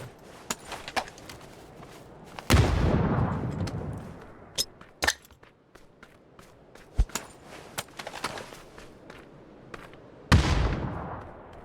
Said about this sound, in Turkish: Tam olarak şu bombanın patladığı yere.